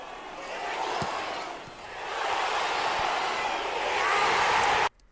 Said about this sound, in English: find the point at which the crowd actually cheers